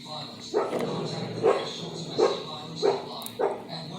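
A dog barks repeatedly indoors in its sleep, five muffled woofs spaced roughly a second apart over a steady background hum.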